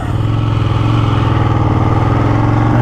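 A 2017 Ducati Panigale 1299 motorcycle set in race mode idles loudly and close by, a steady throbbing engine drone that holds level throughout with no voices.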